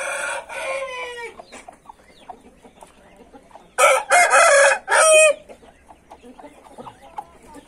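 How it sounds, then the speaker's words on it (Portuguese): A large rooster crows loudly and close by, with a short call early on and a stronger, drawn-out cock-a-doodle-doo later, amid quiet farmyard background. "Esse galo aqui é enorme."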